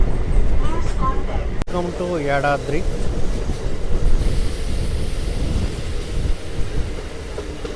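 A MEMU passenger train on the Secunderabad to Warangal line near Yadadri, heard from inside, runs with a steady heavy rumble and wind roar throughout, while a voice speaks briefly early on.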